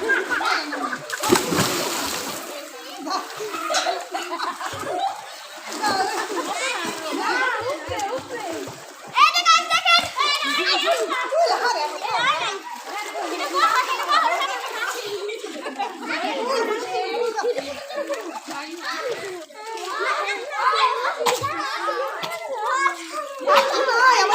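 Children splash, dive and swim in a pool at a garden resort, irregular bursts of splashing water mixed with lively kids' shouts and adult voices calling out nearby, the splashes coming in clusters throughout.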